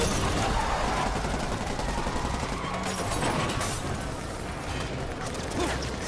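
Gunfire in the PS4 Spider-Man video game, a dense, continuous rattle of rapid shots and crackling bursts that fills the whole stretch at steady loudness.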